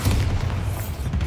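A Bombarda spell blast in Hogwarts Legacy lands as a short, loud, deep boom with a rumbling low tail, close and alone.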